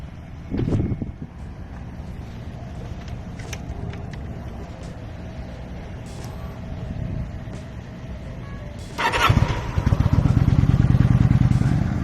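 A motorcycle being ridden through Miami streets while carrying groceries gives a steady engine drone mixed with buffeting wind noise, swelling louder toward the end.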